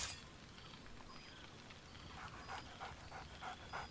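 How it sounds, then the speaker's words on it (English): Scratch, a dog companion in Baldur's Gate 3, pants quickly and rhythmically at close range. The eager breathy bursts grow more pronounced toward the end. No clear bark stands out. "Scratch barks merrily in something like agreement."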